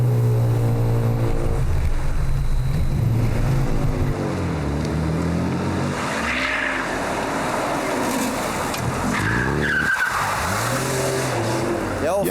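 Small car engine driving during stunt practice, engine note rising and falling with tires squealing, heard at moderate distance with people talking partway through.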